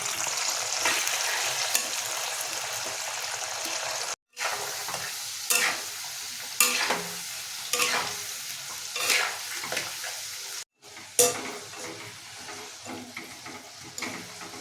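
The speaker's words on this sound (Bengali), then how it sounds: "আলুগুলো ভাজা হয়েছে লাল লাল করে।" Cut potatoes frying in hot oil in a wok make a continuous loud sizzle, broken by periodic stirring scrapes and two short dropouts, heard up close with no speech.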